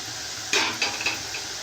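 Black-eyed peas stirred in a pan, with a few quick scraping and clinking strokes of a spoon against the metal over a faint background hiss, close and without voices.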